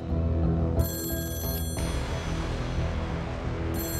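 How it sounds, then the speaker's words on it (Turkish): A telephone rings over a dense, continuous backdrop of music and ambient sound that stays loud throughout the few seconds. "3 yıl sonra Manisalı dağcı Haydar Aksakal'ın telefonu çaldı."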